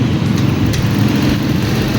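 A Suzuki Burgman Street EX scooter with an idle speed control fault, its engine idling steadily at close range, a constant low hum with no talk.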